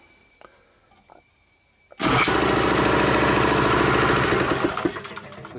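A shop's Dayton 240V 7.5 hp air compressor motor, which has a faulty start capacitor, kicks on abruptly after a few faint clicks and then runs with a loud, steady, rattling mechanical drone close by.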